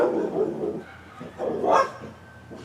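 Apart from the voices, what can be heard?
dog barking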